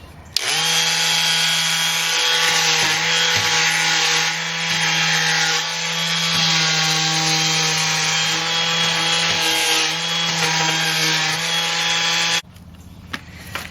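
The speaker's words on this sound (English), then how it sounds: "I'm just going to show you a little bit of the sanding." A wooden drawer is sanded with sandpaper while being refinished, a loud close steady scratching rasp that runs evenly for about twelve seconds and then stops abruptly, leaving near quiet.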